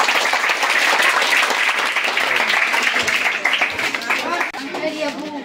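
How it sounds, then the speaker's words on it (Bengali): An audience at a school ceremony claps loudly and continuously for several seconds, the applause tapering slightly toward the end, with voices mixed in. "আমরা এর জন্য একটা জোরে করতালি দিয়ে দিই।"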